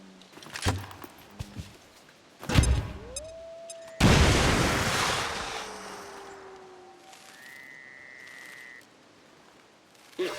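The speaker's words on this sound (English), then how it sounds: "Explosion!" An explosion in the video game XCOM 2 lands as a loud booming blast with a long rumbling decay, set among sharper game impacts and clicks, a rising tone and later electronic interface beeps.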